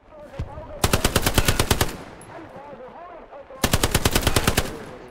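Machine gun fire in the World War II shooter Hell Let Loose rips out in two loud, rapid bursts of about a second each, with a single earlier shot and quiet game ambience between them.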